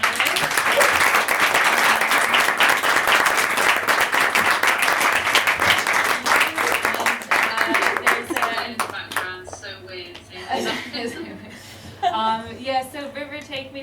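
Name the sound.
audience applause for the panelists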